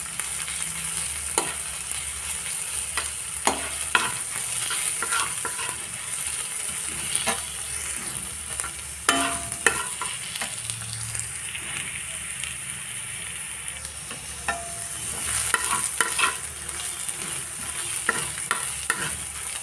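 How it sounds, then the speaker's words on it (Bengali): Garlic browns in hot oil and is stirred in a pan while cooking a bean and dried fish dish. A steady sizzle runs throughout, broken by repeated scraping strokes of the spoon, with a voice heard at times. "আবার রসুনগুলো ব্রাউন করে ভেজে নিতে হবে।"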